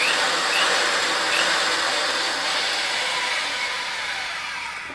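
A RIDGID pipe threading machine runs in forward with a steady, loud motor whir and grinding hiss that holds constant and tapers off slightly at the end, with no talking.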